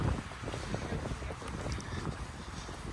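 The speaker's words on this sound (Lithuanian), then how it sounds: "dabar vėjas labai rodo orus, kad labai vėjas sukilęs" Strong gusting wind in a forest near Žagarė, roaring and buffeting the microphone steadily throughout, loud and close with no pause.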